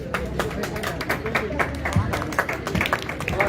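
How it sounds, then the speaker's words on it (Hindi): School Republic Day ceremony audience clapping, a steady scattered patter of applause under an announcer's voice on a loudspeaker. "जोरदार तालियां।"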